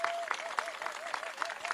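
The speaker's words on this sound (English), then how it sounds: "give a huge round of applause to the commission and everybody who helped organize this event" An audience applauds at the Washington State pride flag raising: a dense, steady wash of clapping hands at moderate level, with sharper individual claps popping out at a fairly regular pulse.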